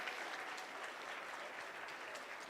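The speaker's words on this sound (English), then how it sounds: "We choose him to clap on our behalf" One man claps steadily on behalf of a seated audience at an anti-corruption summit, a dense continuous patter that fills the room with no break.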